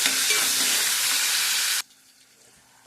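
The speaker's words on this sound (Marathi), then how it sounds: "हळद टाकायची, टॅमॅटो टाकायचे, चांगलं हलवून घ्यायचे." Turmeric and tomatoes stirred and frying loudly in a pan, a steady crackling sizzle for almost two seconds that then drops away to near quiet, with a brief clink at the very end.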